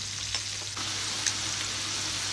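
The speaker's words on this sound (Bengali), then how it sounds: "তেল ঢেলে দিলাম, একটু গোটা জিরা তেলে দিলাম। তারপরে এখানে পেঁয়াজ ছেড়ে দিব।" Onions fry in hot oil with whole cumin seeds, giving a continuous close sizzle. Faint stirring scrapes sound now and then, and no one speaks.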